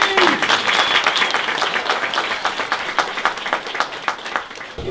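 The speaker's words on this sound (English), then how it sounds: "Let's hear it for Rusty!" A crowd at a chili cook-off prize announcement claps and cheers steadily, dense applause filling the whole stretch with scattered whoops, close and loud.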